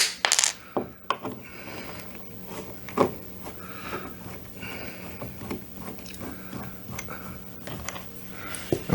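Screws being backed out of a door hinge on a door that fails to latch, with close metallic clinks, small clicks and scraping taps scattered over several seconds against a faint steady hum.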